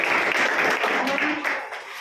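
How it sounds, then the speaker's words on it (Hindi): Schoolchildren in a classroom clap for the boys during a school activity, a dense, steady patter of many small hands that stays loud and then tapers slightly toward the end. "लड़कों के लिए ताली बजाओ।"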